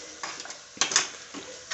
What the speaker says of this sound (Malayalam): ഇങ്ങനെ ഇളക്കി അങ്ങോട്ട് മറിക്കുക